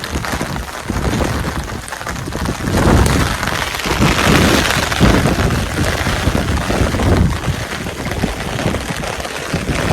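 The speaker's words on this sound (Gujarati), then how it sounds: "વરસાદ બહુ આવે છે," Heavy monsoon rain pours down outdoors, a loud, continuous wash of patter that swells slightly midway and holds steady.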